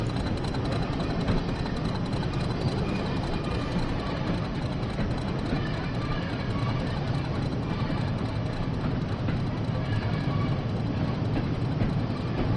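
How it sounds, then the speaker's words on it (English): British Class 40 diesel locomotive in Train Sim World 3, West Cornwall line, with a steady continuous engine drone and rail rumble throughout, near and unbroken, no talk. "I love the soundtrack of this locomotive."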